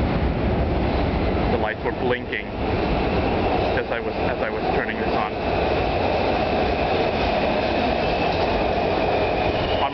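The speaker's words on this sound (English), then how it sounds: "here's my train coming up." A subway train rumbles into L'Enfant Plaza Metro station in Washington, DC, with a loud, steady roar and rattling wheels, while someone talks briefly over the noise.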